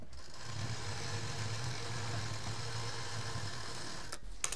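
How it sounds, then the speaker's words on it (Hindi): A sewing machine runs steadily, stitching along a joined strip on a quilt-scrap mat, a continuous mechanical hum at close range that stops abruptly near the end. "अब ये जो पट्टी जोड़ी थी पहले हम इस पे एक सिलाई कर देंगे।"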